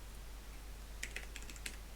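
Quick keystrokes on a computer keyboard, about half a dozen crisp clicks bunched in under a second, heard close over a steady low background hum.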